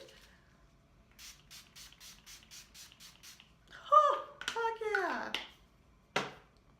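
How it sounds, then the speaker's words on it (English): About eight quick, soft spritzes from a spray bottle in even rhythm, followed by a person talking quietly. "I'm gonna finish with a little bit of setting spray"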